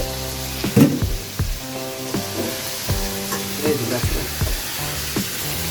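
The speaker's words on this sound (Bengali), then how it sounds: "এই যে গোস্তগুলো পেঁয়াজের মধ্যে ঢেলে দিব" Meat poured into onions frying for biryani in a home kitchen, a loud steady sizzle punctuated by sharp clanks and scrapes of a spoon against the pot, close up.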